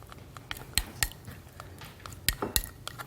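A utensil clinks against a bowl while a wheat flour paste is stirred into cooled salt brine for dongchimi, with several sharp, close taps and soft sloshing at an uneven rhythm.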